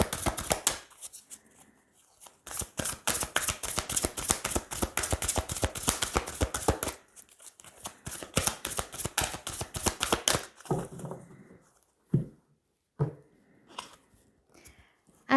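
Tarot cards of an angels-of-love deck are shuffled in rapid crisp riffles, a long run of quick flicks, then slower handling, a few separate card snaps and draws near the end, close and clear.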